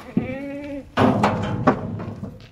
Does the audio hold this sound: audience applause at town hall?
no